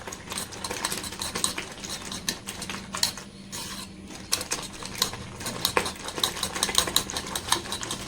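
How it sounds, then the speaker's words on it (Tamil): Eggs for a Sunday pizza-style omelette are beaten in a bowl with a utensil, a quick, steady clatter of rapid whisking strokes running throughout at close range, with no talking. "ஸோ இப்போ நல்லா பீட் பண்ணிக்கலாங்க."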